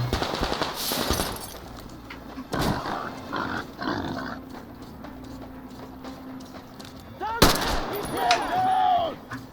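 Gunfire aimed at the player in Metro Exodus, with bursts of rapid shots and single cracks at varying distances, over game ambience and occasional talk.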